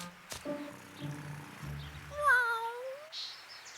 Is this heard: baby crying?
no